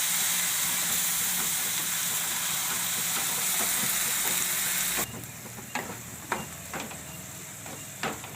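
Onions fry in a pan on a low flame for chole gravy, a loud, steady close sizzle for about five seconds that then drops quieter, with a few clicks and scrapes of stirring against the pan.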